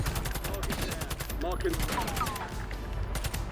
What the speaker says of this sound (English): I'm just not stopping shooting. I'm just gonna keep shooting again.